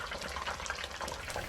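Raw shrimp sizzling as they drop into hot oil, a steady close crackle and bubbling hiss of frying that runs through the whole moment without pause.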